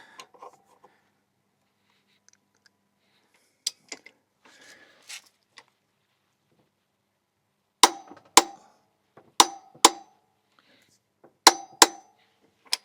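Sharp metallic clanks from a wrench tightening a motorcycle's rear axle nut during chain maintenance come in spaced pairs, loud and close, with a few quieter clinks and long silent gaps between them.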